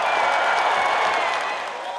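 A large crowd at a Trump rally applauds and cheers in a dense, steady roar of clapping and voices that holds loud throughout, easing slightly near the end.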